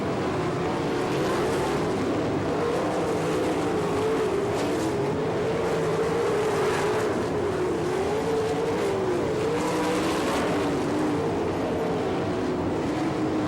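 USAC National Sprint Cars racing at Attica, Ohio during the Buckeye Nationals, engines roaring loud and continuous with a wavering pitch as the field circles the track.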